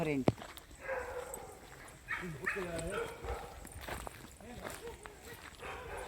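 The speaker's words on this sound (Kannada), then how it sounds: "ಪುಟ್ಟ ನಾಯಿ ಮರಿ ಬೊಗಳ್ದಂಗಿತ್ತು" A small puppy barks in a house during the Naga Panchami festival in Udupi, giving short high yips near the start, with people talking over and around it.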